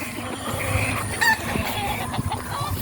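Eight-month-old young roosters cluck and murmur steadily on a farm, a dense, close chorus of fowl sounds with an occasional louder call rising above the flock.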